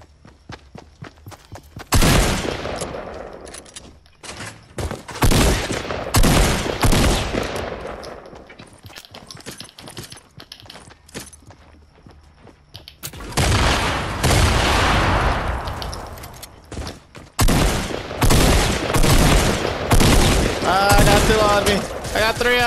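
Rapid bursts of gunfire in Fortnite, including shotgun blasts, crack out loud and close in two heavy clusters separated by quieter footsteps and movement, with players talking over the action.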